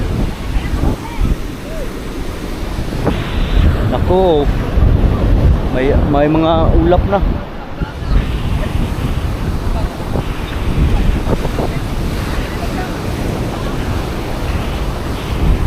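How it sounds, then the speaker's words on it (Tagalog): Strong ocean waves and gusting wind on a boat at sea, a steady loud roar of surf and wind noise throughout, with people talking over it. "Ang lakas ng alon."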